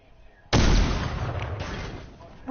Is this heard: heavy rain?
no